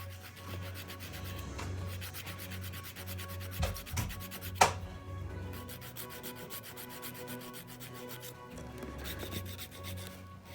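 A hand-held 180 grit file rasping across fingernails, a continuous close scratchy rubbing with steady back-and-forth strokes and a few sharper scrapes midway, no talking.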